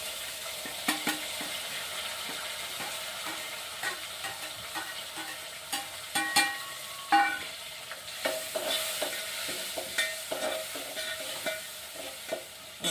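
Onions and tomatoes sizzle in hot oil in a village kitchen, a steady close frying hiss broken by repeated sharp scrapes and clinks of a spoon stirring against the pan, with no talking.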